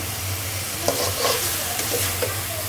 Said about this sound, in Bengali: মশলাটা খুব সুন্দর করে কষিয়ে নিচ্ছি